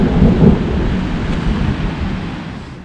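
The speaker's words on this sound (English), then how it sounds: "Prettiest rain shower I've ever seen." A heavy rain shower pours down in the Yellowstone backcountry, a steady, loud, broadband wash of rainfall close by that holds level for the whole stretch, with low rumbling and wind buffeting at the microphone.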